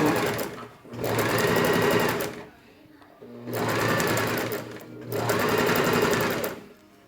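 A sewing machine stitches a fabric heart in three loud, close runs of rapid, even needle chatter separated by short pauses, with a voice talking during the stops.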